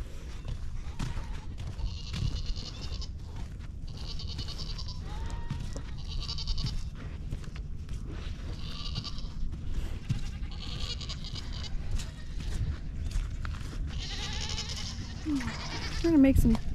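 Goats bleating on a farm at feeding time, with several loud, drawn-out bleats recurring every couple of seconds over a busy background where people talk.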